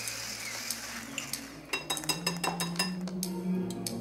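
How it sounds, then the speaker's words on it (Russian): Spoon clinking and scraping in a bowl while cottage cheese filling with vanilla is stirred until smooth, a run of light close clinks and taps over a faint steady hum, no talking. "И перемешать до однородности"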